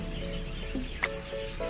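Pet birds kept in a double cage chirp in short, scattered calls over a steady low background hum, one brighter call standing out midway.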